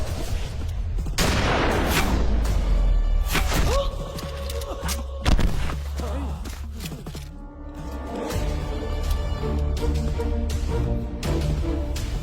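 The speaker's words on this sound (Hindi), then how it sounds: "गोली चलाओ।" Several loud gunshots fired at a wild boar during a hunt crack out at irregular intervals, close and forceful, over a continuous droning tonal background.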